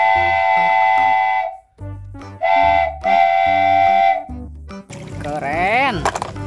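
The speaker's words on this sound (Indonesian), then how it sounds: "Kereta api." Several loud tonal whistle blasts, long and short, like a cartoonish train whistle, followed by a wavering rising-and-falling whistle sound.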